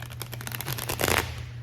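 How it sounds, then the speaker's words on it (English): A deck of tarot-style cards is shuffled once by hand, a quick close riffle of papery flicks that builds to a brief burst near the end. "we are just using this deck, Shuffle Once"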